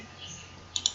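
Two quick, sharp mouse clicks on a computer running Microsoft Excel, close and clear over a quiet background hum.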